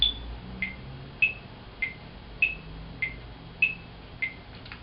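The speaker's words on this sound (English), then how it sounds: "I've got my metronome on ready" A metronome set to 50 beats per minute and subdivided into eighth notes ticks eight times at an even, moderate pace. Each click is short, sharp and high-pitched, and they alternate slightly in pitch over a faint background hum.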